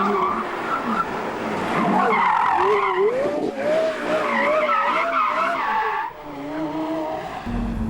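A Porsche Carrera GT sports car with a V10 drives hard nearby, tires squealing and the engine note rising and falling through shifts in a loud, continuous run.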